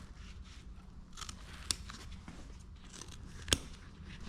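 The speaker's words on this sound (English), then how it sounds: "we'll actually open up this channel by snipping these corners because they sew them up" Scissors snip open the sewn corners of a 1967 Shelby GT500 Mustang seat upholstery channel, two sharp isolated cuts standing out against a low background hum and faint rustling.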